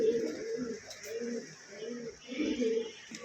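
A pair of white Baghdadi Homa pigeons coos close by in soft repeated phrases, about four rhythmic coo bursts separated by short pauses, over faint background noise.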